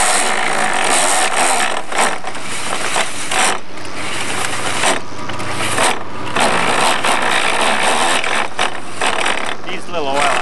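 Sailboat boom lowered on its topping lift as the brake is released, giving a steady stream of ratcheting, clicking mechanical noise with irregular squeaks and knocks, fairly loud and continuous throughout.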